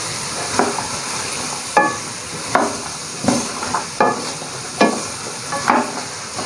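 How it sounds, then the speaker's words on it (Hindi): Cauliflower is stirred into masala in a pan, with a spoon scraping in regular strokes about every second over a steady background sizzle, close and fairly loud, with no talking. "इस गोभी को जी इस तरह मसाले में अच्छी तरह कर देना है मिक्स"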